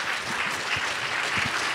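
An audience applauds the panelists at the close of a discussion, a brief, even patter of many hands at moderate distance, with a few low voices beneath.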